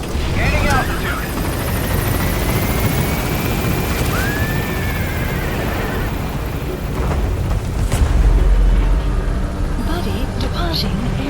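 Helicopter in the Metal Gear Solid V game climbing away from a landing zone, a steady broadband rotor-and-engine roar throughout, with radio-style voices and a rising whine over it.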